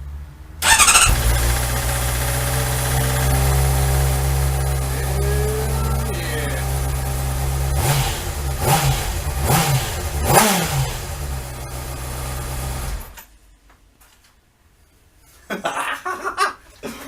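A 2012 Honda CBR600RR sport bike, fitted with a K&N air filter, starts up and settles into a loud, steady idle, with a few sharp blips of the throttle before it cuts off, followed by brief faint handling noise.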